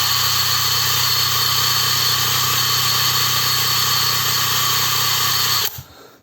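A DEVETECH CIW-500 cordless impact wrench runs at first speed with no load, a loud, steady motor whine that holds for several seconds, then winds down and stops near the end.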